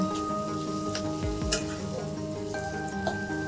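Banana flower curry (mochar ghonto) frying in a pan, a soft continuous sizzle with a few scraping stirs and a low thump or two, fairly quiet, with a faint steady hum in the background.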